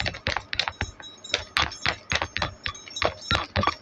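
Tarot cards being shuffled by hand, a quick run of crisp riffling snaps and soft slaps in irregular bursts, close and fairly quiet, with no voices.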